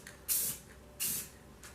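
Spray can hissing paint onto bicycle rims in two short bursts with a brief third, close and crisp with quiet pauses between.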